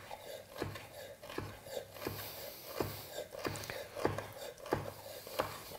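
A knife roughly dices sun-dried tomatoes on a board, about ten steady chops in an even rhythm, close and moderately quiet with no talking.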